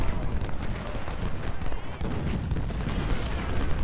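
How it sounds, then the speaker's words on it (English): Massed Civil War artillery rumbles continuously in Ultimate General Civil War, a dense, loud wash of overlapping cannon booms and battle noise with no clear pauses. "I'm going to get all my artillery firing on his."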